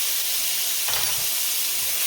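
Minced garlic hits a hot pan beside homemade Salisbury steak ingredients, giving a steady close hiss of sizzling that briefly swells as it is tossed around, with no voices.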